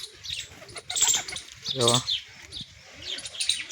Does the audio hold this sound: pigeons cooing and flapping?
yes